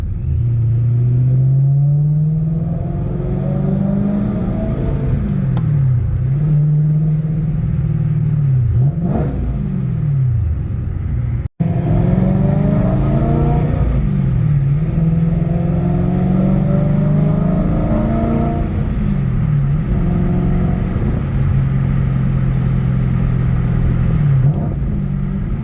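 A supercharged BMW E92 M3 engine on the move, revving up repeatedly through the gears with loud rising whines and brief dips between shifts, heard from inside the car with no talking.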